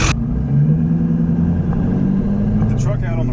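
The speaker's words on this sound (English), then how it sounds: "With the truck out on the road now" A modified 2002 LB7 Duramax diesel truck cruises on the road, a loud steady low engine rumble and drone inside the cab, with a voice talking over it.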